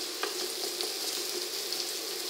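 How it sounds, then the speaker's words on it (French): Onions frying in oil, browning toward caramelisation for a Breton-style white bean dish, a steady close hiss of sizzling with faint scraping ticks scattered through, no voices. "on va attendre que les oignons brunissent un peu, caramélisent."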